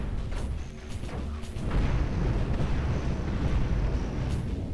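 Missile volley explosions hitting a ship in the space game Cosmoteer, a cluster of sharp bursts early on giving way to a loud sustained rumbling roar of blasts.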